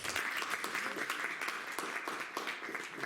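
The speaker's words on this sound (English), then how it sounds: "So, a little round of applause" Guests at an entrepreneur institute discussion event give a steady round of applause, a moderately quiet, even patter of many hands clapping throughout.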